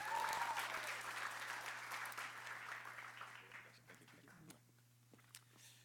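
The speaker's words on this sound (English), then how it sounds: "And a round of applause for the current president" A college event audience gives a round of applause for the current president, dense clapping that starts strong and gradually thins out to a few scattered claps over a low steady hum.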